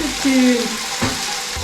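Onions and mushrooms cooking in a pan give off a soft, steady frying sizzle close by, under a brief tonal sound, with no speech.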